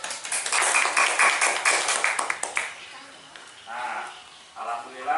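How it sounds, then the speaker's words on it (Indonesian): Schoolchildren clap for a classmate in a class, a burst of dense, fairly close clapping lasting a couple of seconds before fading into quieter room sound with some talk. "Ayo tepuk tangan untuk teman, ayo."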